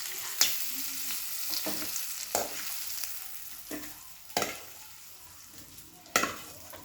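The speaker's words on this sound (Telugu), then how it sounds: "బాండిల్లో ఆయిల్ ఇంకా అవి కాకరకాయలు ఇవి ముందుగా ఫ్రై చేసుకోవాలి" Sliced bitter gourd fries in oil in a pan, giving a steady soft crackle that stays fairly quiet. A few sharp stirring clacks and scrapes break through now and then, and nobody talks.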